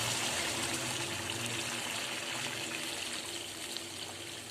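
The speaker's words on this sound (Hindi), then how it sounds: "जितना इसमें अपना शोरबा बनाना है हम ये उतना इसमें पानी डाल देते हैं" Water poured into a pan of frying fish to make a fish curry broth, a steady close trickling and gushing wash of liquid over sizzling, continuous throughout without talk.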